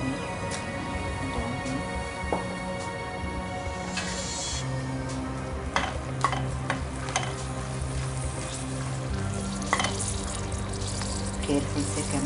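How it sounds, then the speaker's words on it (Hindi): Cumin seeds dropped into hot oil for a tempering, giving a steady close sizzle with scattered sharp crackles and pops, plus some watery kitchen clatter in the background. "चलिए अभी बगार रेडी है हमारी, तेल गर्म हो चुका है,"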